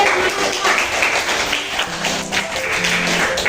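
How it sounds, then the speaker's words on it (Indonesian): A class of students clap together in a classroom, a dense, steady patter of many hands lasting a few seconds, with voices mixed in underneath. "Beri tepuk tangan dulu."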